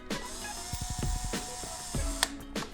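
A power drill drives M2.5 screws into a Falcon gear drive, giving a burst of rapid ratcheting clicks followed by short whirring runs and clicks, close up, with no talk.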